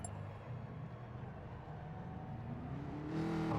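Race cars, Aston Martin DBR9s in Gran Turismo Sport, accelerating off the line at a race start, a steady engine drone that builds and rises in pitch toward the end, loud and close, no talking.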